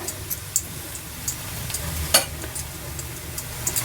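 Oil sizzling steadily in a pan while sweet potato bhakshalu fry for a Shivaratri festival treat, a continuous close crackle broken by small ticks and pops with no talking.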